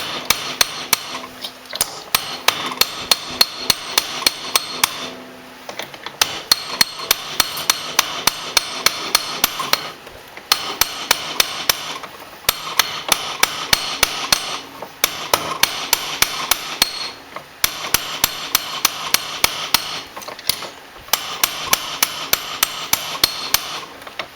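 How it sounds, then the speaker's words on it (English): A planishing hammer beats metal in fast, steady rhythmic runs, each burst of ringing blows broken by short pauses, loud and close. "Now come on back with your planishing hammer and bring this right on down"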